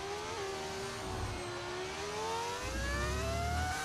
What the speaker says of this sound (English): All the cars sound like this, V10s. It's an audio mod that you're hearing, Tyler.